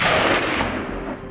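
A single sharp gunshot rings out during a wild hog hunt, a loud close blast that fades into a short rumbling echo.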